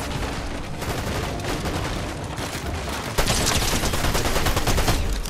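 Dense gunfire in a Fortnite zero build match, a continuous loud rattle of rapid shots that grows louder and harsher partway through.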